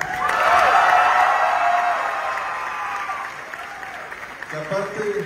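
Applause from a crowd at a youth awards ceremony in Celaya, Mexico, loud at first and then fading, with talk over it throughout.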